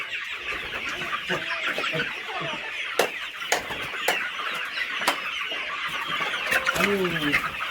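Desi free-range chickens on a poultry farm cluck and chatter continuously in a busy flock, with occasional sharper squawks and a person speaking briefly in the background.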